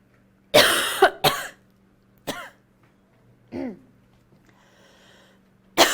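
A series of harsh coughs and throat clearings close to the mic, several sharp bursts spaced out with quiet breaths between.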